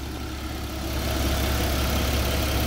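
A 2011 Porsche Cayman, second generation, idling with both engine covers removed; a steady low rumble with a slight swell partway through, close and alone.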